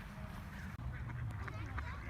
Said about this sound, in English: Look at all the ducks on the pond.